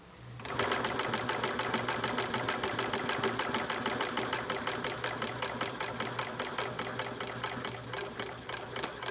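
Blind hemmer sewing machine stitching a hem, a close, steady mechanical chatter of rapid repeated stitches with a constant low motor hum running throughout and slowly easing toward the end.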